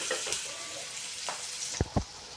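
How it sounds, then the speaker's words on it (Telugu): Capsicum frying in a pan, a soft steady sizzle with a few scrapes and two sharp knocks near the end, faint and close with no talk. "కలుపుకున్నాక వేగనిద్దాం దీన్ని బాగా ఎర్రగా ఎర్రగా వరకు"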